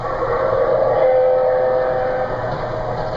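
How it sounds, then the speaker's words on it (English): Several LGB garden-scale model trains running together on a large reassembled layout, giving a steady mechanical rumble and whirring hum with a sustained tonal whine, continuous and fairly loud throughout. "now we can run 12 trains at the same time, 6 on each side. And run they do."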